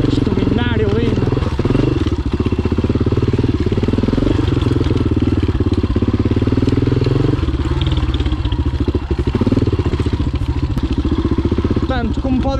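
Yamaha XT600 single-cylinder motorcycle engine running steadily and loud throughout, with throttle changes and clattering mechanical noise, likely heard while riding.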